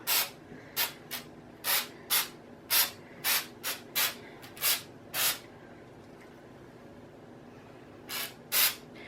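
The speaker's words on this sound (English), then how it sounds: "I've got some spray snow here that I'm just gonna spray over it" Artificial snow is sprayed from an aerosol can over a woodland Santa crescent moon wreath in short, hissing bursts, about a dozen in an irregular rhythm, close and fairly clear, with a pause before two final sprays.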